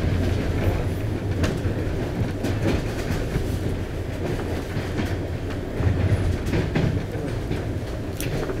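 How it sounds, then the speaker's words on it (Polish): The EIC 8100 Bolesław Prus train rolls into Warszawa Wschodnia station, a constant loud rumble with rhythmic wheel clickety-clack heard from inside the carriage. "Wjeżdżamy na stację Warszawa Wschodnia."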